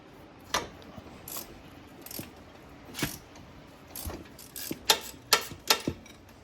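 A hand ratchet clicks in short bursts while undoing a sway bar bolt above the axle on a 450, the quick pawl ticks close and fairly quiet, growing sharper and denser toward the end.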